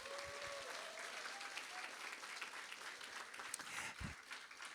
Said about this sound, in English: can we give all three of our chefs a round of applause?